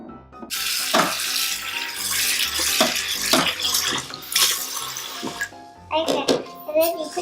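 Water from a tap running into a sink while rice is washed, with splashing and clinks of a pot or utensils, moderately loud and close, interrupted by short pauses.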